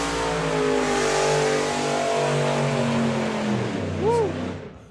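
A hot rod drag car, a John Milner lookalike, accelerates hard down the strip at Santa Pod Raceway, a loud sustained engine roar rising through the gears before fading near the end.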